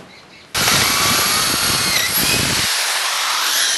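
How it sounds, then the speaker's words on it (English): A power drill whirs loudly and steadily, boring through pallet wood for about three seconds after a short quiet start, its pitch dipping slightly as it bites. "hold it firmly while I drill through"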